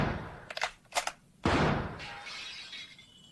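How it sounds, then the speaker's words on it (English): Rifle shots fired in a radio drama: two quick sharp cracks followed by a louder blast with a lingering ringing tail, all close and without talk. "Let me get a couple of shots off to see how this rifle fires."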